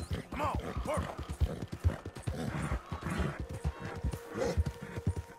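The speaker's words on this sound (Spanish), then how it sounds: "vamos a ir dándole duro al caballo" Horse hooves gallop in a rapid, rhythmic clip-clop within the video game Red Dead Redemption 2, steady and close, with a brief whinny-like tone near the end.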